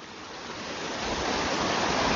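Floodwater rushes loudly down a stream at the Khardu drinking water project after rain. The dense roar stays close and swells steadily louder.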